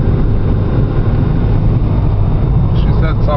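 A car with two people aboard grinds slowly up a steep country road, its engine and road rumble loud and constant, with a voice briefly heard near the end.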